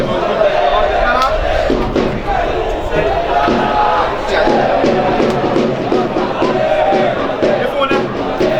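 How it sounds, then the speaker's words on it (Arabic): A football stadium crowd at a Damanhour versus El Mogaled match roars in a dense, constant wash of cheering, with voices talking over it throughout. "بدأنا كده نسمع اصوات الجمهور الموجود في ارض الملعب"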